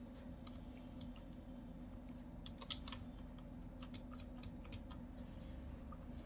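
Someone types an NVR password on a computer keyboard: scattered light keystroke clicks, faint and close, over a steady low room hum.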